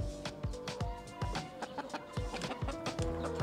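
Chicken clucking in short repeated bursts over a busy, music-like background, fairly loud and steady across the moment, with no talk.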